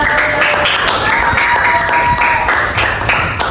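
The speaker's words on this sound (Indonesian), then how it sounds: "Tepuk tangan untuk Zalfa." A classroom group claps for a student during a microteaching session, a brief steady burst of clapping with some murmuring alongside.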